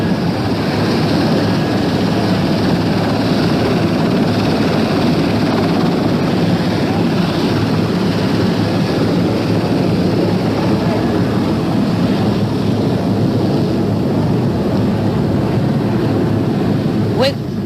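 A helicopter carrying officials and aides on the day of the 1963 Kennedy assassination, its rotor and engine roaring loudly and continuously from inside the cabin.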